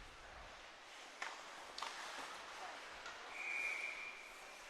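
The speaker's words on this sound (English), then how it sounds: "A whistle for offsides." A referee's whistle blows for offside during a 16U youth ice hockey game, a single faint, short tone heard over the hollow rink ambience and a few sharp knocks.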